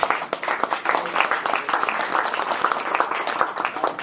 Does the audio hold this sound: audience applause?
yes